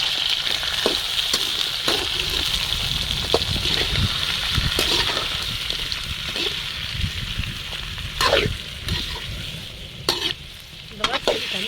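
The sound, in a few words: tiger prawns added to sautéed garlic and onions, frying in oil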